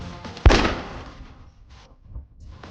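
A single sharp gunshot fired at a target board cracks out loudly and is followed by a short decaying echo, then low rumbling quiet and a faint thump near the end.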